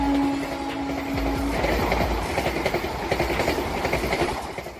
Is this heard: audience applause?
no